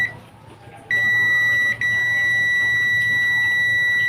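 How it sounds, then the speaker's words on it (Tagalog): An electrical tester's buzzer sounds through a wall switch wired into an outlet jumper setup: a steady, loud, high electronic tone that holds for several seconds, breaking off once briefly before resuming. "Pag in-on mo, dapat may buzzer siya."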